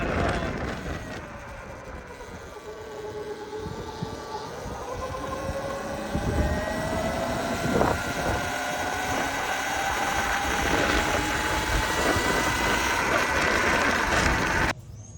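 Surron X electric dirt bike on its first ride, a steady motor whine with wind and terrain rumble that rises in pitch as it accelerates, running continuously up close.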